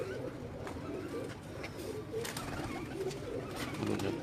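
Kasuri pigeons coo softly on a rooftop loft, low repeated throaty calls rising and falling over faint background noise, fairly quiet and close.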